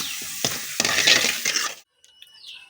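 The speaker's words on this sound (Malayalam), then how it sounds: "ഇതാ പാനിപൂരിയൊക്കെ ഇതാ വറുത്ത് റെഡിയാക്കി വെക്കുന്നുണ്ട് ചേട്ടൻ" Pani puri frying in hot oil at a street-food stall, a loud bubbling hiss broken by scraping, stirring clinks for about two seconds, then near silence with a few faint clicks.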